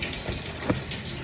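Shower water running steadily, a broad hissing spray close by with a brief splash midway, no voices.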